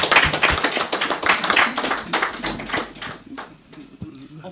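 An audience at a book presentation claps in a brief burst of close, dense applause that thins out and fades toward the end.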